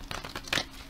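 A brief, close flurry of papery riffling and snapping, like a deck of playing cards being shuffled, with no talking.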